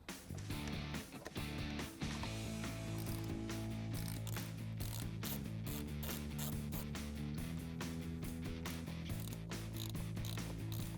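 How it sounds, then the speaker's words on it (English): A hand ratchet clicks rapidly and steadily while backing out T20 Torx screws from the mass airflow sensor of a 2016–2023 Camaro SS, with a close, continuous pawl chatter and faint metallic ringing throughout. "we have two T20 Torx screws that we need to remove"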